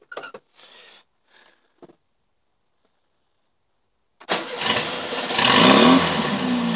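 A 1974 Volkswagen Super Beetle engine catches after a few faint clicks and fumbling sounds, then starts with a rough burst and revs loudly up to a sustained, climbing air-cooled roar close by.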